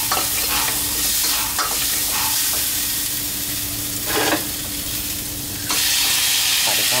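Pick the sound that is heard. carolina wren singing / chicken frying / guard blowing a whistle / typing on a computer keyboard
chicken frying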